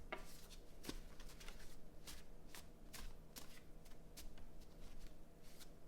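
A deck of playing cards shuffled repeatedly, crisp riffling bursts in a steady rhythm, faint and close against quiet background noise.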